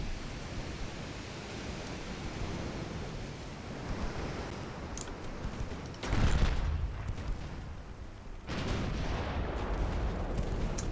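Heavy naval gunfire from 3-inch and 6-inch guns in a video game, booming blasts rising over a steady sea-like rumble, with a louder burst partway through and another swell near the end.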